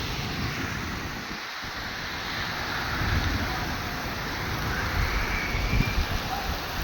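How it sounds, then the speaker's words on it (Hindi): Heavy rain falling at night in Medina, a dense, steady roar of downpour with broad noise and a slight swell midway, heard close with no talk. "तो ये देखें, बारिश और तेज़ हो गई है।"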